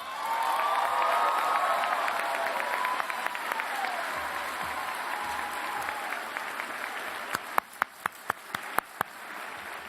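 College commencement crowd applauding and cheering, a broad wash of clapping with whoops that gradually thins out, leaving a few scattered individual claps near the end.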